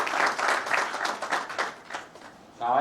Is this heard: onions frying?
no